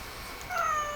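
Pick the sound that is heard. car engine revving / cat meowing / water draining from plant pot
cat meowing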